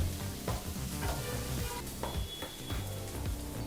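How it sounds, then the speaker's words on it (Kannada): Finely chopped garlic frying in hot oil in a pan for egg fried rice, a steady close sizzle with light stirring and scraping throughout, no talking. "ಈಗ ಒಂದು ನಿಮಿಷಗಳ ಕಾಲ ಈ ಬೆಳ್ಳುಳ್ಳಿನ ಫ್ರೈ ಮಾಡ್ಕೋಬೇಕಾಗತ್ತೆ"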